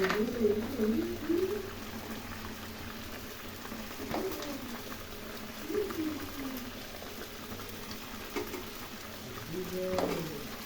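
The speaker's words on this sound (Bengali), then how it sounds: "ঝোল ফুটে গেছে" Fish curry broth made with rui fish and winter vegetables boils in a pot, a steady soft bubbling and sizzle, with a voice murmuring intermittently over it.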